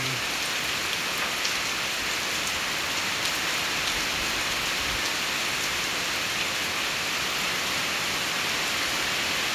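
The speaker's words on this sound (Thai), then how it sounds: "พายุเข้า" Heavy storm rain pours down steadily in Laos, a dense unbroken hiss of water on surfaces with no pauses or voices.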